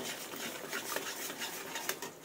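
Turmeric and salt being stir-fried with spices in oil in a pan for a soybean and elephant foot yam curry, with steady faint scraping and stirring and soft intermittent clinks of a utensil against the pan.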